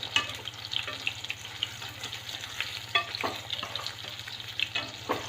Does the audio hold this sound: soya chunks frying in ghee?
yes